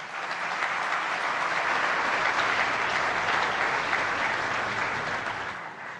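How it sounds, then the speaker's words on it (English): An audience at a diplomatic conference gives sustained applause, a dense, even wash of clapping that holds steady for several seconds before tapering slightly. "please applaud yourselves"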